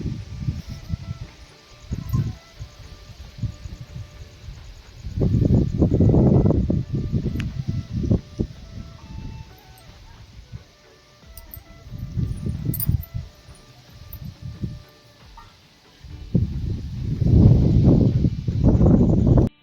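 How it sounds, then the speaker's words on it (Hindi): Strong wind gusts across a rooftop, buffeting in heavy low rumbling bursts that swell and drop away several times, with quieter breezy gaps between. "मैं रिकॉर्ड कर रही हूँ कि देख सको तो कितना हवा चलत है"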